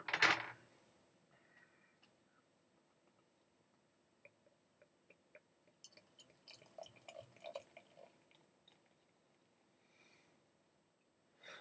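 Mikkeller 1000 IBU beer being poured from a bottle into a glass, faint close trickling and glassy clinks scattered over several seconds after an initial bump, without any speech.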